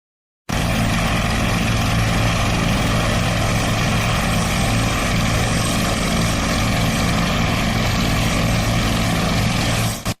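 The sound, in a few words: helicopter during emergency air extraction of wounded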